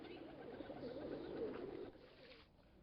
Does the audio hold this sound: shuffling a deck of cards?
no